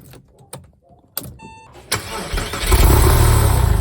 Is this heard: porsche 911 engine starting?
yes